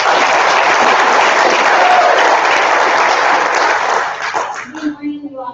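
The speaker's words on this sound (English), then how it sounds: "So let's have a round of applause for Ruben." An audience at a summit claps in loud, dense, sustained applause for about four seconds, then it thins into scattered claps as a voice begins speaking.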